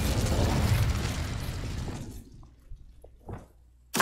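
A fire spell cast in a video game: a loud, broadband burst of roaring flame that fades over about two seconds, followed by quieter small pops and a final sharp crackle.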